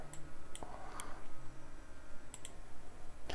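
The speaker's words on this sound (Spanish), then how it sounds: "le doy clic por fuera, selecciono el carro nuevamente dándole un clic" A computer mouse gives a few sharp, quiet clicks scattered over several seconds while an image is edited in Microsoft Word. Faint room hum sits underneath and no one speaks.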